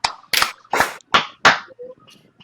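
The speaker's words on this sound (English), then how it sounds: "Can we get two claps" Sharp, separate claps ring out in a quick uneven series, about five bright slaps from a live wrestling show audience, then a short faint tone as the sound dies away.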